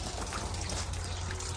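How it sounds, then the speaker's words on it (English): Faint steady rush of water pouring into a tank, a continuous low gush without talk, at a farm in Brazil where the tank is filled before spraying herbicide. "And I fill the tank with the water"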